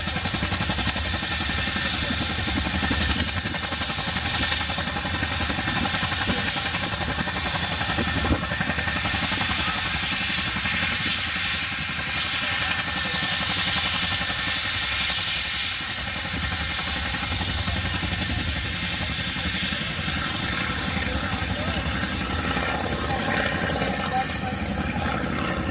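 Piston engines of an Avro Anson Mark I, a wartime aircraft built near Leeds in 1943, drone steadily at an air show, with a continuous loud engine hum and rumble throughout.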